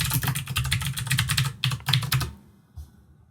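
Rapid keyboard typing, like entering a login password in a VR video game, clatters in dense bursts for about two seconds and then stops, leaving near silence.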